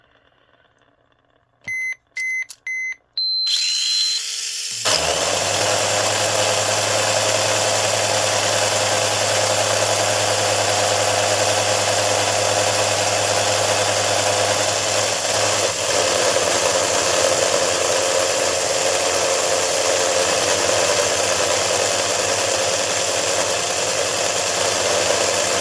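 Mini 4WD Sonic Boom Ver. 2 toy car with a 4:1 gear ratio, its small electric motor spinning up to a loud, steady high-pitched whine that holds for about twenty seconds after a few short beeps, no voices.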